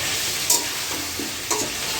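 Chicken and vegetables frying hard on a high flame, a steady close hiss with a couple of sharp stirring scrapes breaking through.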